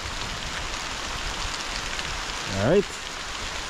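Rain falling at a canal while fishing, a steady, dense patter of raindrops on surfaces throughout, with someone speaking briefly near the end.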